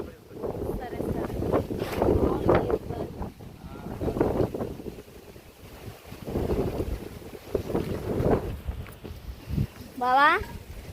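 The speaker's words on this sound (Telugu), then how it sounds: "బావా గాలి అయితే చాలా ఎక్కువ తోలుతా ఉంది కదా" Strong gusts buffet the microphone at a village campsite, rising and falling in rough surges while people talk over the wind.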